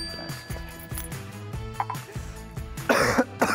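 A voice imitates a cough: a few short, harsh bursts over a background of music, with a louder rough burst near the end.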